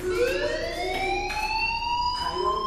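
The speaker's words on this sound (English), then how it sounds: "do you hear that fire alarm?" A fire alarm in the game Life is Strange wails with a rising, siren-like tone that holds steady and loud, with faint background clatter.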